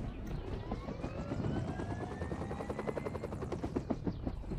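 A helicopter in the mobile shooter BGMI thuds along with a rapid, steady rotor chop and a whining engine tone, loud and close for the whole stretch, with faint voices underneath.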